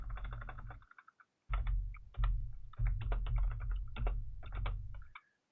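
Code being typed on a computer keyboard in quick bursts of clicky keystrokes, separated by short pauses, close and clear with no talking.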